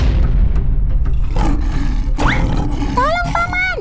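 A lion climbs onto a truck and roars, a loud, rough roar with a rising, wavering pitch near the end, set against steady background noise and voices.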